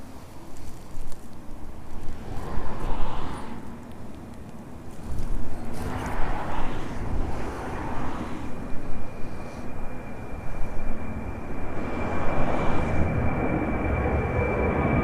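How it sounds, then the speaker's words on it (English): A DHL Boeing 767 departs in a strong storm wind, its engine roar rising and falling in gusts under heavy, constant wind noise, fairly distant and diffuse. "Final departure on this morning's stream, the DHL 767 off to Brussels"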